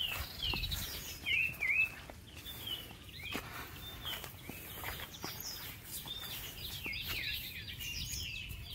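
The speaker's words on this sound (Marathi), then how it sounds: "ऐका, पक्ष्यांचा किलबिलाट ऐका तुम्ही।" Birds chirping in a Konkan forest, scattered thin tweets and short calls at moderate distance over a quiet background with faint rustles and light steps, no voices.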